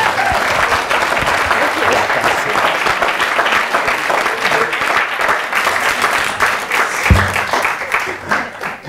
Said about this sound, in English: So give Alice a big round of applause for this.